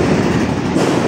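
A loaded cargo trawler carrying cows to a riverside market in Bangladesh runs its engine, giving a loud, dense, steady rumble and drone close by that continues without a break.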